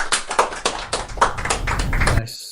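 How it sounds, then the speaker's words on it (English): An audience clapping in a hall during a Christian–Muslim debate event, a short burst of dense, close applause that quickly fades out. "Perfect time to clap"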